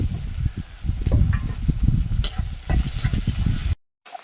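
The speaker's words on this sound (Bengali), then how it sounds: "পেঁয়াজ রসুন ভাজা হয়ে গেছে" Chopped onion and crushed garlic frying in hot oil with bay leaf and five-spice, a close, steady sizzle broken by the scrape of stirring, ending abruptly.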